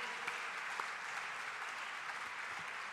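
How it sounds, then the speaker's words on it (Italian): Steady applause from the audience at a book presentation event in Bologna, a dense, even wash of clapping that holds throughout with no talk over it. "Allora, facciamogli un altro applauso."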